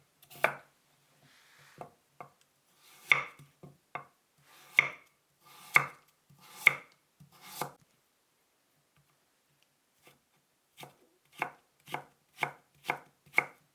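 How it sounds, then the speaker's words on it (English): A knife chops cabbage and carrots into chunks on a board, sharp single strokes in uneven bursts with a pause in the middle, close and clear against a quiet background. "Start by preparing the vegetables. Cut into chunks the cabbage,"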